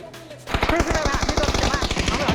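A rapid, rhythmic burst of automatic gunfire in PUBG starts abruptly and keeps going, loud and close, with a voice briefly heard underneath.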